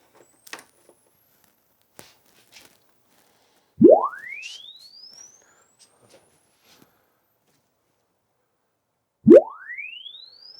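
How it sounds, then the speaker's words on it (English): Tone from a signal sweep generator played through an amplifier during repair, two rising sweeps gliding from low to high pitch, separated by quiet with faint clicks and handling noise. "Let's put a signal sweep generator into it."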